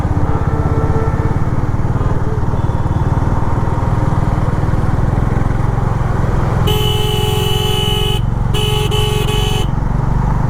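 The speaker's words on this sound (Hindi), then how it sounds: "बहुत ट्रैफिक है।" Heavy mixed road traffic in Haridwar, with buses, motorbikes and auto-rickshaws: a loud, steady engine rumble throughout, joined near the end by several sustained honking horns in short bursts.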